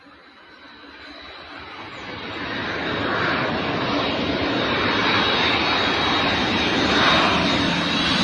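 An airplane engine roars overhead as a broad, steady rumble that swells from faint to loud over several seconds and then holds, with no talking.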